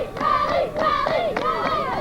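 Softball crowd at a Chazy versus Dannemora high school game cheering and chanting for a rally in the sixth inning, a loud, steady wall of voices with rhythmic rising shouts.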